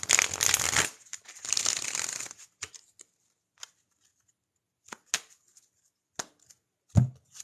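Tarot cards shuffling: two dense, riffling bursts of card noise lasting about a second each, followed by scattered soft taps and flicks as cards are squared and drawn, close and quiet, with no talking.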